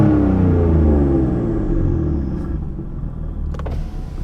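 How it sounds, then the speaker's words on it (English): BMW M4 fitted with a VRSF exhaust, valves open, heard from the driver's seat: a deep, loud rumbling engine drone that slowly settles into a steady idle burble, with a brief click near the end. "the entire time you heard the exhaust, that was with the valves open"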